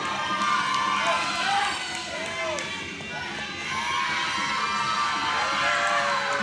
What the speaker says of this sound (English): The girls are back out to cheer for the third attempts again.